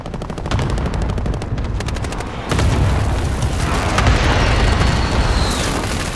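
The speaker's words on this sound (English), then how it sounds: "Be advised, friendly precision airstrike inbound." Precision airstrike explosions in a Call of Duty match: heavy, continuous booming blasts and rapid gunfire-like cracks that surge louder partway through and stay dense and rumbling to the end, with no voices.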